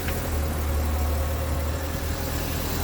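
A 2024 Kawasaki Ridge side-by-side idles with a steady, low, smooth engine rumble, close and constant, with no talking over it.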